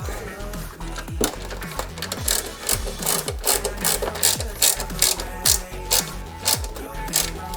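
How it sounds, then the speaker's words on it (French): Small screws are driven by hand into a 1/8 scale Jaguar E-Type model, making a close, quick run of ratcheting clicks in repeated bursts with a faint low hum beneath and no talking. "on fixe ici. Avec une vis de ce côté et une autre là."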